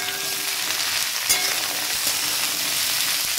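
Potato and cauliflower pieces fry in oil in a pan for a winter mixed-vegetable curry, giving a loud, continuous hiss with one brief stirring knock partway through and no talk.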